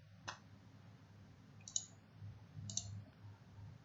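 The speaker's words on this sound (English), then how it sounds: "So just click enter and click reload." Three faint, crisp computer mouse clicks come at spaced intervals over a low, quiet background hum.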